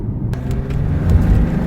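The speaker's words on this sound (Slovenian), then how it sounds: "Takoj čutiš, kako zadnja kolesa zdrsnejo, zato ker tukajle pri hotelu je asfalt razmeroma gladek." A BMW driven hard near a hotel slides its rear wheels on smooth asphalt, heard as a steady, close, low engine rumble with faint tire and cabin noise.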